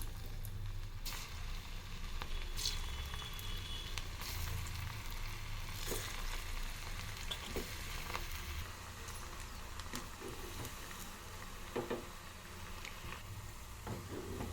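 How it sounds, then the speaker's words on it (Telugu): Taro root pakodi deep frying in hot oil, a continuous crackling sizzle with scattered pops and spatters, steady and moderately quiet, with no talking. "ఆయిల్ వేడెక్కిందండి ఇప్పుడు ఒకటి ఒకటి వేసుకుందాం"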